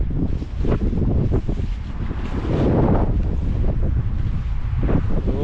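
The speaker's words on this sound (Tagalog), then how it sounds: "lumalakas po ang hangin dito sa area namin" Strong, steady wind buffets the microphone by the shore, a loud continuous roar with gusts swelling around the middle, waves faintly beneath.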